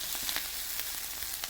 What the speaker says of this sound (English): a little bit of butter in a cast iron frying pan, and you reduce it. You make it small and you keep stirring.